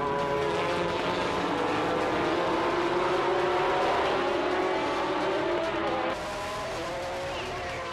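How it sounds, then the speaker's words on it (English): Loud, dense exhaust roar from JGTC race cars on the rolling start at Fuji Speedway, several engines blending into a sustained rising drone before a slight drop in level near the end. "the 41 machine started off with ear-breaking exhaust notes"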